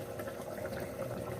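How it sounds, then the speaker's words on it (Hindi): Meat frying in oil over medium heat in a pot for a bottle gourd (lauki) and mutton curry, a steady close sizzle and bubbling hiss with no talk. "अभी हम गोश्त को अच्छी तरह से भून लेते हैं नॉर्मल आंच पे"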